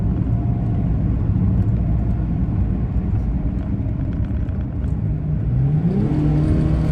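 A FIAT 130 Coupe accelerates on automatic kickdown, a deep steady engine rumble heard from inside the car that builds into a rising rev near the end.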